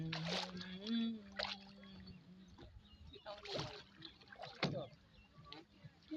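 A small rowboat crosses a river, with gentle water sloshing and light splashes against the hull near at hand, broken by intermittent talking voices.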